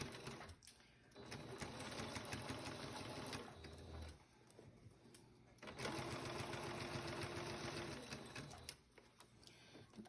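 A sewing machine stitches a seam with a scant allowance near a garment's shoulder, its rapid mechanical whir running in two long bursts with a short pause between, close and clear.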